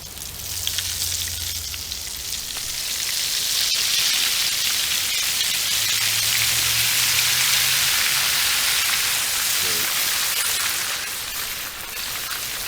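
Morel mushrooms frying in 350-degree oil, a loud continuous sizzle with fine crackling that swells slightly in the middle and then eases, with no talking.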